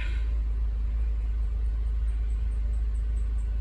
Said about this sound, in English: So with a good battery, the car crank and start.